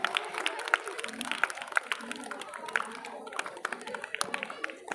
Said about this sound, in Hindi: तालियां नहीं रुकनी चाहिए बच्चों, उत्साहवर्धन होता है इससे